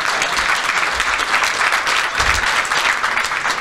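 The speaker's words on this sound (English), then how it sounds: "Applause, of course." Audience members at an Agile Latvia conference opening applaud loudly, dense sustained clapping filling the room throughout without a break.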